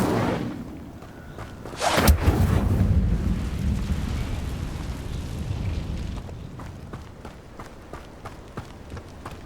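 An Incendio fire spell cast in Hogwarts Legacy, a sharp whooshing burst followed by a broad roaring rumble that slowly fades, with faint rhythmic thuds trailing behind.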